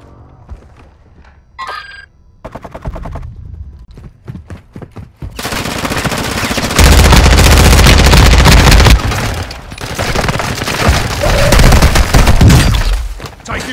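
Loud gunfire in Call of Duty Modern Warfare II, starting with scattered shots and sharp bursts, then building into a dense, sustained barrage of automatic fire and booms that rises and falls in waves.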